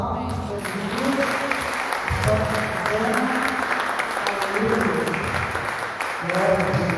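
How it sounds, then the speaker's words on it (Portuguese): A church congregation gives a burst of applause during a worship service, dense clapping under a continuous voice talking over it throughout. "Uma salva de palmas."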